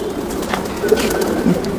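A Lal Pari pigeon coos softly up close, a brief low murmuring call.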